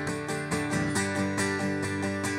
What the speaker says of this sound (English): Then we have an acoustic guitar.